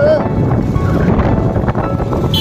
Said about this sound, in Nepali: यतातिर चाहिँ अहिले हावा हावा मात्रै चल्छ त